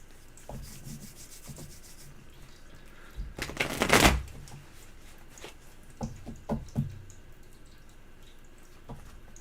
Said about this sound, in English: Shuffle and cut for me.